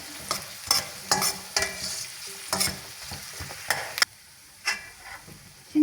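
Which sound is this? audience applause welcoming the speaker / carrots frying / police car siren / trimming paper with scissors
carrots frying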